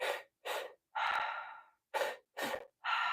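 Deep belly breaths, slow and audible, in six distinct pulses of air, each a soft rushing inhale or exhale separated by short silences, close and alone.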